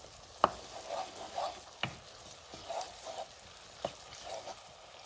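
Grated tomato being stirred into a chicken fricassee with red wine, soft scraping spoon strokes and a few sharper clinks against the pan over a quiet, low sizzle.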